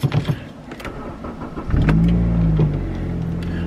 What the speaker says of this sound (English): Lovely sound of a four-cylinder naturally aspirated.